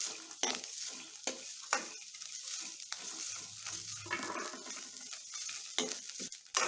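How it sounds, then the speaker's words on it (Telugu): Grated fresh coconut sizzles and fries in a pan while a spoon stirs it, scraping at intervals. A steady close hiss runs under the repeated sharp scrapes, with no talking. "కొబ్బరి ఈ విధంగా వేయించుకోవాలండి కలర్ వచ్చేంత వరకు వేగింది తీసేద్దాం"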